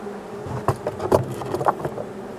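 Honey bees buzz around a weak colony after feeding, a steady close drone with brief louder swells as individual bees pass near.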